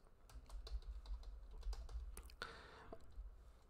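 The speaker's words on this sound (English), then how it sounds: "So I will type email address." Rapid clattering keystrokes on a computer keyboard while an email address is entered, steady close-up tapping with a brief louder burst near the end.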